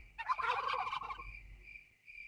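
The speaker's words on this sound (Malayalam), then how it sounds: "ടർക്കി കുഞ്ഞ്" A turkey chick in the video game Last Day On Earth lets out a short burst of rapid gobbling that trails off into a thin faint tone, alone and fairly quiet.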